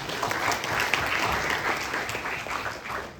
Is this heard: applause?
yes